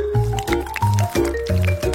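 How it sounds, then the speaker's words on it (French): Jelly mixture sloshes and squelches inside a jar being shaken by hand, in a rapid rhythmic series of wet, squishy pulses close to the microphone. "je prends comme ça et je secoue tout bien"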